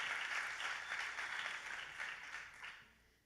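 Steady applause from a crowd at a startup demo day, broad and sustained, tapering off toward the end.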